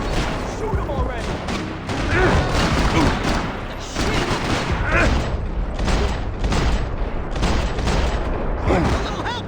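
Video game gunfire, loud and close, as heavy bursts and rapid volleys of shots with occasional booms over about ten seconds, while people shout and talk over the shooting.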